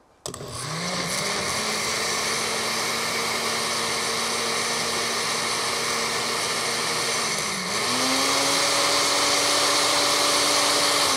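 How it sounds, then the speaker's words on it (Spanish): A blender whirs continuously through green juice made with fruit, starting abruptly with a sharp rise in motor pitch, then holding a steady loud drone before the pitch climbs again as the load changes. "Vamos a licuar."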